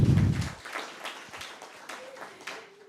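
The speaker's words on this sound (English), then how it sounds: "A round of applause for them as well." A round of applause at a convocation for a governance internship program, scattered claps following a voice that cuts off, moderately loud and thinning out over a few seconds.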